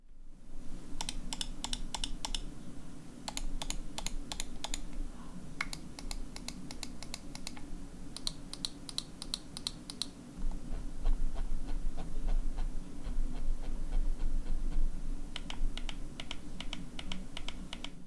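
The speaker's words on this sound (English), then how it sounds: "I'm going to do a sound test of all of the switches on this mouse" Sharp mechanical clicks from a Rapoo VT2 Max Gen-2 gaming mouse's optical switches, in quick bursts and spaced single presses, close and crisp, over a steady low hum.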